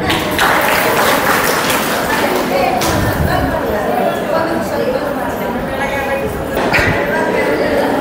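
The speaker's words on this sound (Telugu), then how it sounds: "ఈ అక్కయ్య కోసం క్లాప్ కొట్టండి." An audience at a spiritual centre gathering in Visakhapatnam claps for an elder sister, a mix of scattered hand claps and thuds with murmuring chatter and talk over it.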